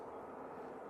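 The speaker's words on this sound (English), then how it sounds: "Is that a plane coming over towards us?" An airplane passes overhead near Manchester Airport as a faint, steady, distant rumble and whoosh of engine noise, with no other sounds standing out.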